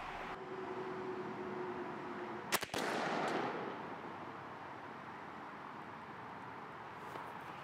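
A 28 gauge shotgun fires a Foxtrot TSS load outdoors during a pattern test: one sharp, loud report with a short echo, then steady wind or background hiss and no talking.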